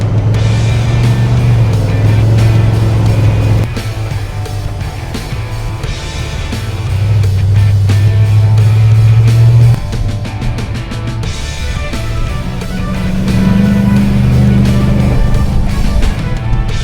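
Cars travelling along a sandy dual lane highway on the Ningaloo coast at around 60 to 80, steady loud road and engine noise swelling and fading as vehicles pass close by, with no talk.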